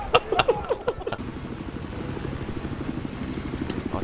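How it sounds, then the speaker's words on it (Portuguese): A helicopter in Battlefield 4 thumps with a steady low rotor drone, preceded by a few sharp impacts and bursts of in-game action at the start. "Ó, tem outro helicóptero."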